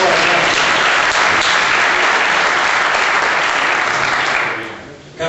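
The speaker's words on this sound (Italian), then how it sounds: "un applauso a Giuseppe" A loud, steady burst of applause for Giuseppe at an awards gathering fills the room, dense and sustained before fading out near the end.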